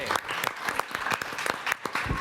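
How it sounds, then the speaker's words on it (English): An audience at a tech meetup applauds the organizer, with dense, steady clapping throughout and a few voices mixed in. "please, a round of applause for DJ, who organizes all this"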